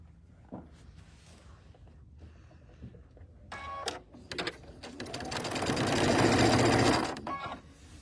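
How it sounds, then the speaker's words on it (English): A sewing machine stitches a table runner, starting with scattered short bursts and clicks, then running in a louder, steady whir for a couple of seconds before slowing and stopping. "So now I'm holding the camera and sewing with one hand."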